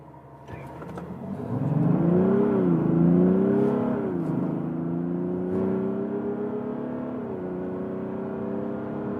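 Mazda CX-60 six-cylinder rear-wheel-drive SUV accelerating hard in sport mode on a slight downhill, engine note climbing through the gears with audible upshifts, a steady strong drone heard from inside the cabin.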